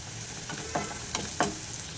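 Chopped onions with a pinch of salt frying in a pan, a steady sizzle broken by three quick scraping stirs of a spoon, heard up close with no talking.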